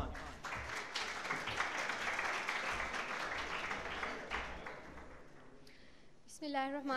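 An audience at an Urdu speech event for Iqbal Day applauds in a long, full round of clapping that tapers slightly toward the end, followed by a voice starting to speak.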